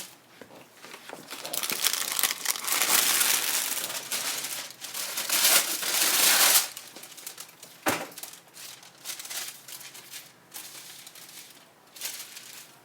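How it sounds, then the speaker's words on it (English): Baking paper crinkles and rustles as it is spread over an oven rack in a kitchen, a close, busy crackling that swells in bursts with one sharp crunch partway through, then settles into lighter rustles. "I'm going to put baking paper down"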